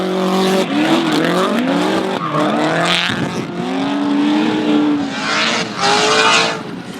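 Drift cars battle at a D1NZ drifting championship round in Taupo, including a 2 Degrees Nissan 570Z, with loud sustained engine roar, rising and falling revs and tire squeal throughout, close and continuous.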